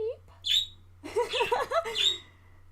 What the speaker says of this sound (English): the birds are talking again